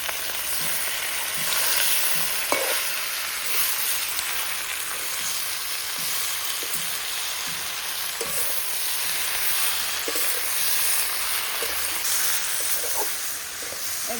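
Malabar spinach greens with slit green chillies tossed in a pan, a continuous loud sizzle and hiss with a few soft knocks and scrapes of stirring scattered through.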